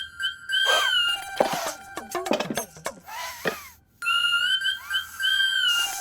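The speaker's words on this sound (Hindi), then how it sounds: "ये तो कुकर की सीटी है।" A pressure cooker lets out shrill, sustained whistle blasts in a home kitchen, with other tonal sounds and sound effects mixed around them.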